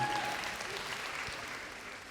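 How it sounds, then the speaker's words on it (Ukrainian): Steady applause from an audience, a dense wash of clapping that holds evenly for a couple of seconds without pause. "подивіться, як вони щасливо аплодують просто"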